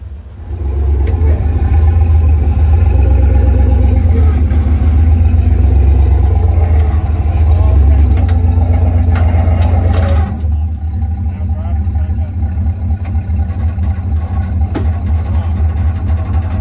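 Diesel tank engine driving, a loud steady mid-pitched engine drone that holds for about ten seconds, then drops to a lower rumble.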